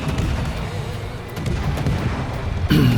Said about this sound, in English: I decide to get a few shots into the Richelieu